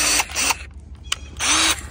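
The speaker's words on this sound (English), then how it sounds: "Pretty nice drill. And it is a brushless one." A brushless cordless drill whirs in two short bursts with a brief pause between, each spinning up and winding down, close and loud.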